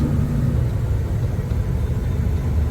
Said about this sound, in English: I've got the engine brakes on high at the moment, so I think I should be having no problems down this hill.